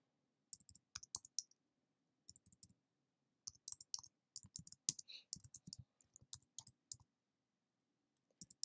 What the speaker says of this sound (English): typing with these nails, it's not it